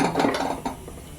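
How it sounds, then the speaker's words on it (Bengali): A metal kadai set down on a village kitchen stove before cooking ghugni, giving a few close clanks and scrapes of cookware over about a second, with no talking. "কড়াটা বসিয়ে দিলাম"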